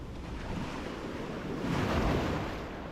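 Black Sea waves wash in on a winter coast near Novorossiysk–Sochi with a soft, steady roar that swells toward the middle, mixed with some wind rumble on the microphone.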